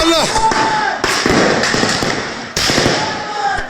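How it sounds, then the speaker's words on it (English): Gunfire during street unrest: several sharp cracks and bangs close to the recorder, some echoing, with shouting voices in between. "Those bullets heading towards the cameraman."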